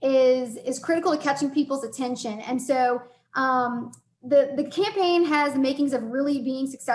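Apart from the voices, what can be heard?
No everyday noise stands out behind the speech.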